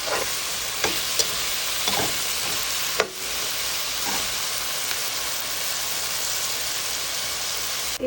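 Fish with taro (kochu mukhi) fries in a pan, giving a steady close sizzling hiss with occasional stirring knocks and one louder scrape partway through, and no talking.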